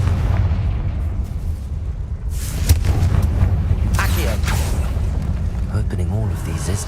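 A Confringo fire spell in Hogwarts Legacy bursts in a series of booming, crackling explosions, loud and rumbling, with a voice talking over the blasts.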